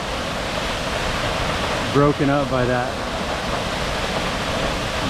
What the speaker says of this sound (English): This has got to be a 70 or 80 foot waterfall